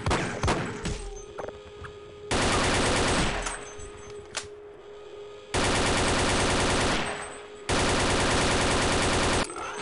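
Gluon gun in the Half-Life: Echoes video game firing in three sustained loud buzzing bursts, separated by quieter stretches with a low hum and scattered impacts.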